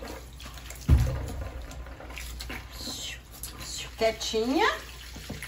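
Water splashes and trickles as soap is rinsed off a dog during a calm bath, in close intermittent bursts, while someone talks softly over it.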